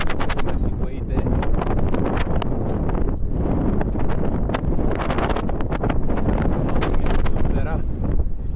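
Strong wind gusts buffet the microphone during a gusty wing foil session on Pittwater, a dense, loud, continuous roar that swells and pulses throughout with rushing turbulence.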